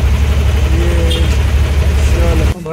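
A car stuck in city traffic in Pune, surrounded by a loud, unbroken rumble of engines and road noise that drops away abruptly near the end.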